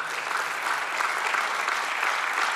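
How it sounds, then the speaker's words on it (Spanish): A church congregation applauds during a sermon, a short dense patter of many hands clapping together, steady and fairly close. "Dale un aplauso si alguien quiere darle un aplauso"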